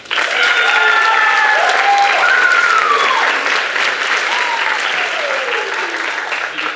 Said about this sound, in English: Give another round of applause to Abigail.